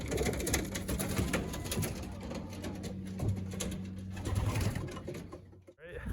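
Flock of 2025 young racing pigeons cooing around a loft with an open landing board, a steady murmur of low coos and soft wing shuffles, close and continuous.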